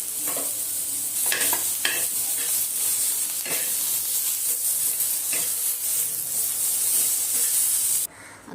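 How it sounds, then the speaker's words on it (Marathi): Tomato pieces roasting in a hot pan after onions for kala masala vangi, a steady loud sizzle and hiss broken by several sharp scraping stir strokes, ending abruptly. "आता काढून घेऊया आणि टोमॅटो पण थोडंसं भाजून घेऊया."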